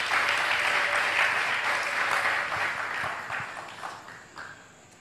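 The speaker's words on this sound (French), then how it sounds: "Applaudissons quand même pour le courage de la maman." Audience applause fills a hall in a sustained burst of clapping that starts loud and fades over several seconds, with no talk over it.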